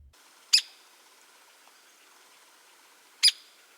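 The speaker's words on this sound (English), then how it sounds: "compare this with a hairy single note call, which is a lot lower and sounds like peak" Two short, sharp single-note calls of a hairy woodpecker, spaced about three seconds apart, fairly clear against a quiet background.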